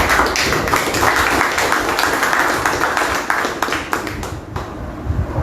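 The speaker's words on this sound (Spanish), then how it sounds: "a quien pido un fuerte aplauso" Audience applause welcoming Germán Peralta at a university lecture, a dense, loud crowd clapping sustained throughout before thinning slightly at the end.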